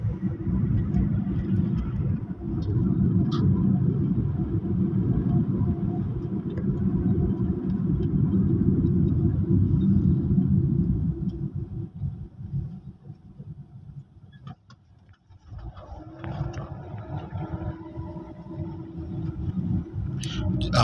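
Steady engine rumble and road noise from a car driving through uptown Nairobi, Kenya, loud and continuous from inside the vehicle, easing briefly before building again.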